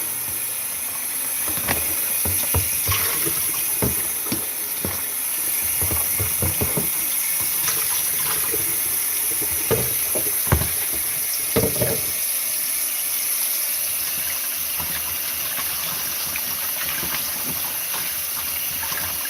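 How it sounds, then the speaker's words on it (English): Hot water running from a kitchen tap into a pot, a steady hissing rush that continues close up throughout with a few clinks and knocks of cookware. "Fill this water."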